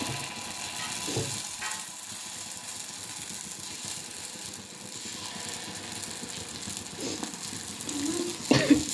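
Batter for ponganalu poured into a hot pan gives a faint, steady sizzle with a few clicks and scrapes of the pan, and a sharper clatter near the end.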